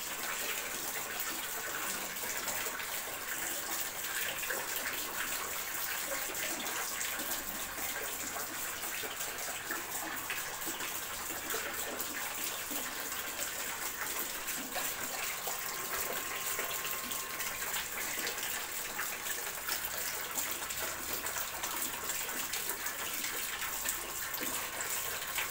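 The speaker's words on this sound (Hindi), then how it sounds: "5 बजे पानी भर रहा हूँ" Tap water runs steadily into containers at 5 a.m., a continuous, moderately loud splashing gush that holds without break and with no voices.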